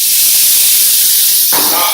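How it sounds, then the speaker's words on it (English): Vegetables fry in olive oil in a pan with a loud, close, continuous sizzle, swelling into a stronger crackling burst partway through as more food hits the hot oil. "Start frying all the ingredients."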